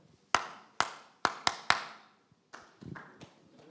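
Sharp hand claps in a rhythm demonstrated during a youth team session in Sierra Leone: five crisp, evenly spaced claps, a short pause, then a looser cluster of softer claps, close and clear over near silence.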